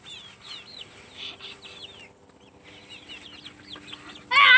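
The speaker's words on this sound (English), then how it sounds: "Chicken! Here, chicken!" Chickens on a homestead with a chicken tractor cluck in short, repeated bursts at moderate distance, joined by a sudden louder squawk at the very end, with no voices heard.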